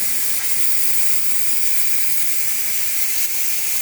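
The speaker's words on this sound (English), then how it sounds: "pull it out and release the steam" Steam hisses out of a pressure cooker after cooking spicy pumpkin soup, a loud, steady, unbroken jet of hiss that holds at the same level from start to finish.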